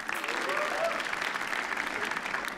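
A studio audience at a comedy roast show claps steadily and fairly loudly throughout this brief burst of applause.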